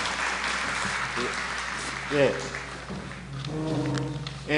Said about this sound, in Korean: 네 분 토론자님께 다시 한번 큰 박수를 부탁드리겠습니다